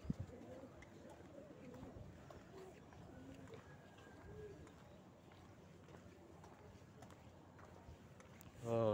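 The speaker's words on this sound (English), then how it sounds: "Oh, it's a pigeon." A pigeon coos softly among outdoor ambience at the Kuching Waterfront, with low, repeated calls under background chatter and a louder voice at the end.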